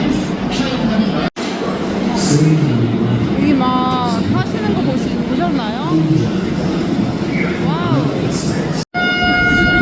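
Rumbling train noise at a railway station in Delhi, India fills the recording, with a horn-like tonal call midway and people talking over it.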